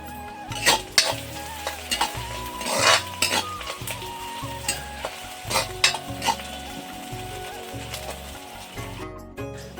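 Onion, ginger and garlic sizzle in hot oil in a pan as turmeric goes in, with a utensil stirring and clinking against the metal in irregular scrapes and taps over a steady frying hiss.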